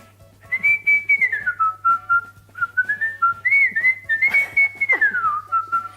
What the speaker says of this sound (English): I have this song that I always whistle.